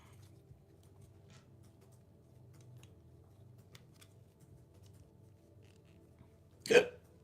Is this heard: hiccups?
yes